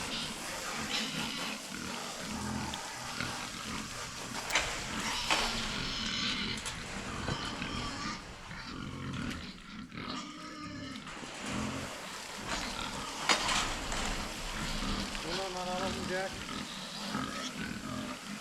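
Pigs in farm pens during a morning feeding routine, grunting and oinking in bursts over a busy, continuous barnyard din, with people talking at times in the background.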